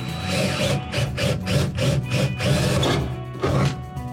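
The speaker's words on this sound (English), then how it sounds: "drill an exploratory hole from there real quick" Drill boring an exploratory hole, a rough, grinding whir pulsing in short bursts of a few seconds with brief pauses, close and fairly loud.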